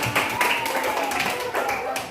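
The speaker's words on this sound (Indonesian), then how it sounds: "Tepuk tangan buat teman-teman" Children in a fourth-grade primary school classroom clap their hands in a brisk, steady patter lasting about two seconds, with voices talking over the applause.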